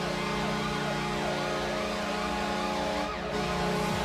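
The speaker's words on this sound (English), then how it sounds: "I thought I'd add Goalhorn, or Siren in this case" Washington Capitals hockey goal siren wailing loud and continuous, its rising and falling sweeps layered over a steady droning tone, close and unbroken across the whole stretch.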